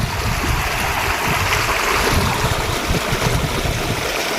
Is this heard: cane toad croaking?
no